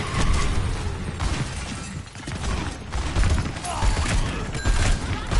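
Overwatch 2 combat: a dense, continuous barrage of gunfire and grenade blasts, loud and close, with sharp bursts and crackling impacts layered over a voice shouting in the fight.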